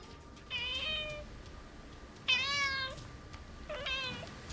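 A cat meows three times, each a clear drawn-out call separated by short pauses, heard close and fairly quiet over a faint background hiss.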